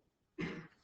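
A single short cough, close and fairly loud, after a moment of quiet.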